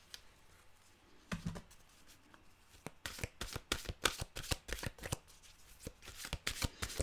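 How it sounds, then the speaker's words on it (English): Mantra cards are shuffled close by in a quiet room, a run of crisp riffling flicks and taps that starts sparse and then speeds into a dense, irregular patter. "Okay, let's get our mantra cards here."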